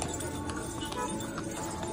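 Hooves of a horse being ridden on the Ridge in Shimla, faint clip-clops that are partly masked by a steady, dense outdoor noise bed.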